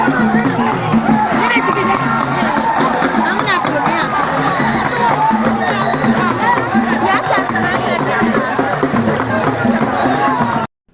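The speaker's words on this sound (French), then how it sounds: "les milliers de jeunes expriment leur joie par des acclamations" Thousands of young people at an initiation ceremony with cane-bearer dance performances cheer and shout, a loud, dense crowd roar of overlapping voices that holds steady throughout before cutting off abruptly.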